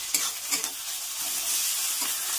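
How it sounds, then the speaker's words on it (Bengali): Garlic and ginger paste frying with onions in hot oil gives a steady, close sizzle, with a few soft stirring scrapes near the start and no voices. "রসুন আর আদাটাকে একটু ভেজে নেব"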